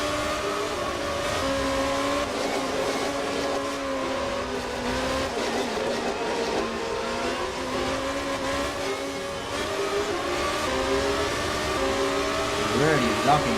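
A race car engine drones through a practice session at a United States circuit, steady mid-pitched tone with shifting harmonics and a brief rise near the end, heard under continuous commentary.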